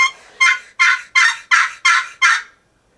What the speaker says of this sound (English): I just think that the yelp on a box call, it's going to reach a long ways